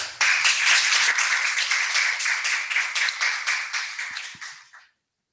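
A room of people gives a strong round of applause to welcome Miguel Arias to speak. Close, brisk clapping starts suddenly, holds steady, then thins to a few last claps before cutting to silence, with no talking.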